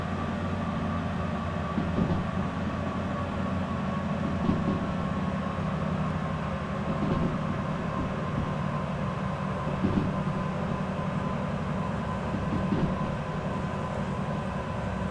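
A long freight train rolls on steadily, a loud continuous rumble of wagons with a rhythmic clatter over rail joints, heard from inside the locomotive as it brakes, with no voices.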